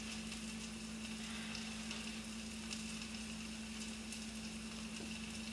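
Onions sizzle steadily in a hot pan as they caramelize with maple and spice, a constant close-up crackling hiss with a faint low hum underneath and no talking.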